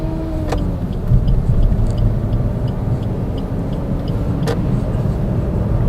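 A 2016 Suzuki Ciaz 1.2 GL sedan drives along with a steady engine drone and road rumble heard from inside the cabin, building slightly as it accelerates. A few faint clicks are heard.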